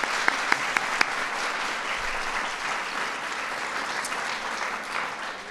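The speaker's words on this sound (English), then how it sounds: "So let's give them a round of applause." Applause at the Kids' State Dinner, a sustained, even roar of many people clapping in a large room, with a few sharp close claps standing out near the start and no talking.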